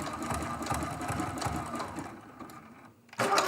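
A sewing machine runs close up, stitching a quilt-as-you-go block in a fast, even mechanical chatter that slows and stops, then picks up again abruptly.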